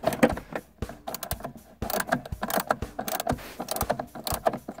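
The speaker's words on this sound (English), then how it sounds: "you're going to just unscrew those, each one of them" Screws being undone from the center console armrest of a 2004 Ford Escape, a close, busy run of ratcheting clicks and metallic ticks in quick irregular bursts with brief pauses, no talking.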